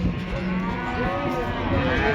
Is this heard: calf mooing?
yes